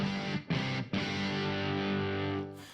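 Clean electric guitar chords ring out through Engl and Hughes & Kettner amps on the clean channel, strummed in a few bursts with short gaps, sustained and fairly full.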